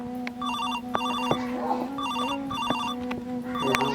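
A mobile phone rings with a repeating electronic ringtone in short, evenly spaced bursts over a steady low tone. It is loud and close, with no talk over it.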